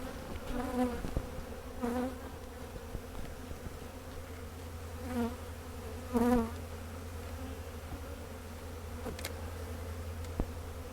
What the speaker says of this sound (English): This particular one is still fairly full of bees